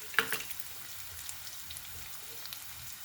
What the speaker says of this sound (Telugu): ఇవి వేగిన తర్వాత బెండకాయ ముక్కలు వేసుకుందాం.